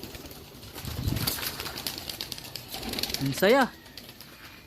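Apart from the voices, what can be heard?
pigeons flying in circles, wings flapping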